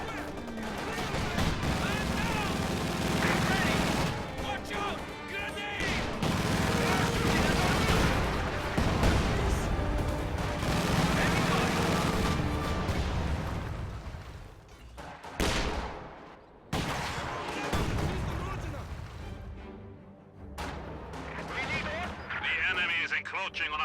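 An artillery barrage in a World War II real-time strategy game: dense, overlapping booms and rolling explosions with rapid gunfire, heavy and continuous, mixed with game music and effects, easing briefly before resuming.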